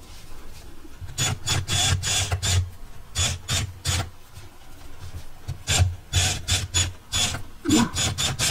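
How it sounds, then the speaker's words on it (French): Drill winding a paper quilling strip, a rapid fluttering rattle of short clicking bursts with a low motor whir, close and continuous throughout, with no talk. "Bon, là je l'ai enroulé avec ma perceuse."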